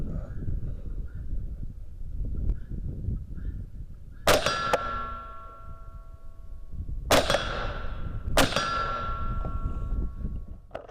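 Bullets strike a steel silhouette target downrange, three sharp metallic clangs that ring out and fade, each one following a distant shot, with light wind noise between.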